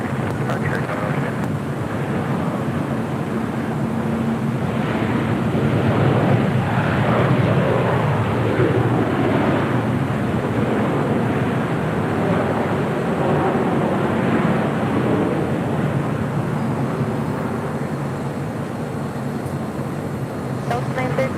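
An American Airlines jet takes off from runway 25 right at LAX, its broad roaring rumble steady and sustained throughout, mixed with wind buffeting across the microphone.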